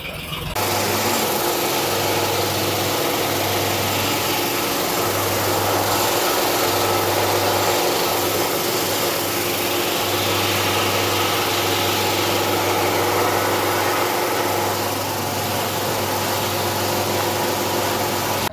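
A tractor engine idles steadily outside a welding shop, a close, continuous droning hum with a constant low throb throughout and no talk.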